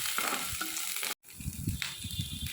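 Mustard seeds, dried chilli pieces, curry leaves and sliced onion sizzle and crackle in hot oil for a green gram thoran, a steady near frying hiss broken by a brief silent gap before resuming.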